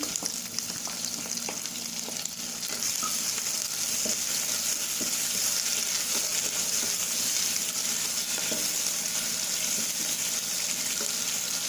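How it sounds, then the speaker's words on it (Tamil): Onion and green chilli sizzle in a pan of oil already holding cinnamon and cardamom, a steady loud frying hiss that swells after the first couple of seconds, with sporadic light spatula taps and no talking. "இது வெங்காயமும் பச்சை மிளகாயும் போடுறேன்."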